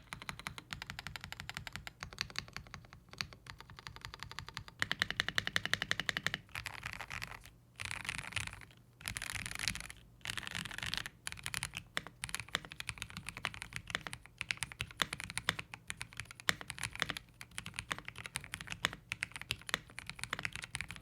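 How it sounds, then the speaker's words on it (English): Steady, rapid clacking of Royalaxe L98 mechanical keyboard keys, close and crisp, with brief pauses between bursts of typing and no voices. "So I know what you care about the most, which is the typing sound."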